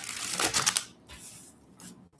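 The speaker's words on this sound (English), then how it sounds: "Let me shuffle these better than this" Tarot cards riffle and flutter in quick bursts, close and crisp, with a pause before another brief shuffle.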